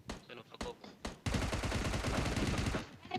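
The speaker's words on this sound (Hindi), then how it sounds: "मैंने पहले गोली चलाई, लेकिन 2 गोली मारकर किल प्राइम के खाते में।" Gunfire in a battle royale video game: a few separate shots ring out, then a dense, rapid automatic burst rattles on for nearly two seconds, loud and close.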